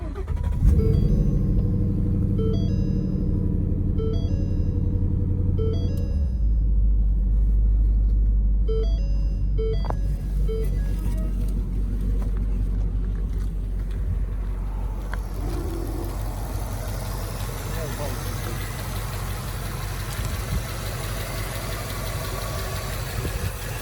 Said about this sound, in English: This engine does run.